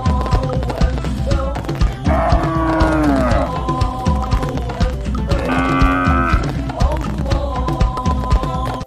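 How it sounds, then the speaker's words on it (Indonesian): A cow moos twice in long, loud calls over busy background music and tapping, the lowing drawn out and rising in pitch. "Wow, ternyata ada sapi warna kuning."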